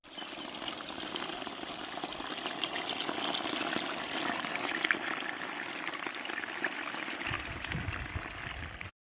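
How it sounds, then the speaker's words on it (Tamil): Water gushing steadily through a broken bank into a fish-catching area, a continuous close rushing pour with a slight splash near the end. "அங்கிட்ட உள்ள தண்ணியை உடச்சி எப்படி வருது பாருங்க தண்ணி"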